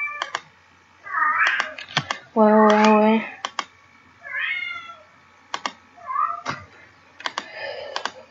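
A domestic cat meows repeatedly indoors, several short, clear, close calls with one longer drawn-out cry, interspersed with computer keyboard typing clicks; a voice briefly speaks.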